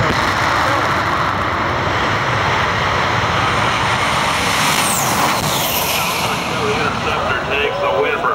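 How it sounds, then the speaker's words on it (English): A jet-powered funny car at a nighttime drag race makes a loud, continuous roar throughout, with a fly-by sweep in the middle where the pitch rises and then falls. "Powerful jet powered machine with the jet rising."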